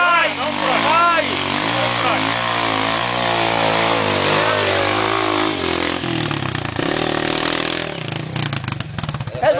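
A JMC motorcycle on a dirt trail in Santa Maria, RS revs loudly up close while pulling off, with rising and falling engine pitch and sputtering toward the end, as people talk over it.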